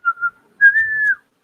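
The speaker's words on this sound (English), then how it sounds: "First he was humming, now he's whistling." A person whistles two short notes and then one longer sustained tone, close and clear against silence, with no talking.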